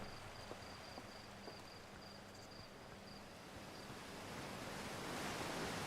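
Gentle water ambience in the video game Outer Wilds, a steady surf-like wash with a faint high tone, swelling slightly louder toward the end, with no talk.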